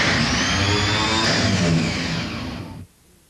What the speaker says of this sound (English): A voltage of 12 volts is thereby applied directly to the starter motor to conduct a no-load test.